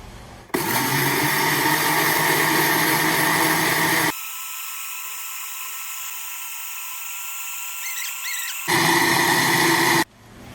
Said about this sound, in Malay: Kemudian kita blender dia ya.